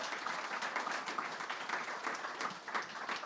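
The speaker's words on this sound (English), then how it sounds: "Give yourselves a round of applause." A live podcast audience applauds, a close, busy patter of many hands clapping that stays fairly steady and moderately loud throughout, with no voices over it.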